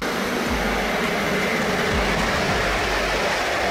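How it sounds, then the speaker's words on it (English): A high-speed train passes with a loud, continuous broadband roar, with low rumbling rail pulses underneath and no voices. "High-speed train. These trains are designed to run at very high speeds"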